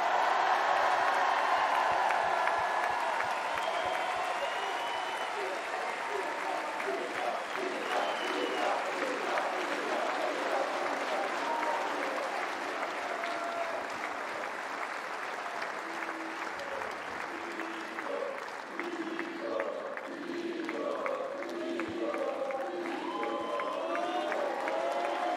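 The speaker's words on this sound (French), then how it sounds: "Un tonnerre d'applaudissements pour monsieur Nicolas Mahut." A stadium crowd at Roland-Garros 2025 applauds tennis player Nicolas Mahut in a long, sustained ovation, with scattered cheers and whistles rising above dense clapping at a moderate distance.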